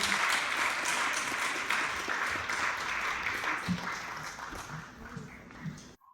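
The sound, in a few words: audience applause at talent show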